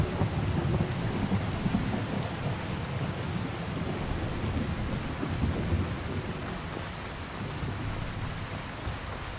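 Steady rain falls in a Skyrim game scene, with a constant hiss and a low rolling rumble of thunder beneath it and no speech.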